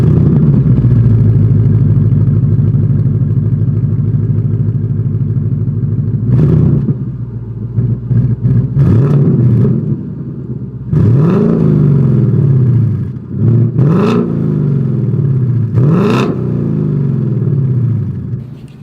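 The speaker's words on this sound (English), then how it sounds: "here is that exhaust clip" A 2021 Ford Mustang GT V8 with an H-pipe exhaust and no active valve system idles with a deep, loud rumble, then barks through a series of sharp throttle revs that rise and fall back.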